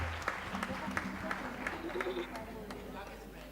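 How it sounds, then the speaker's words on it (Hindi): Audience applause at a 75th birthday celebration, steady clapping from a crowd running through the whole stretch with a low hum beneath and occasional voices mixed in. "एक बार जोरदार तालियां आनंद जी भाई के लिए"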